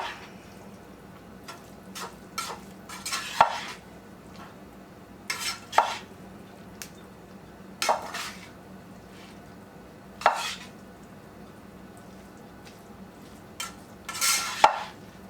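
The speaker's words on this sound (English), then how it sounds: "I'm just going to add a little bit more flavoring and see if I can stir that in a little bit" A spoon stirs flavoring into a southern beef casserole in a handful of separate bursts of scraping and squelching, each a second or so long, with quiet gaps between them.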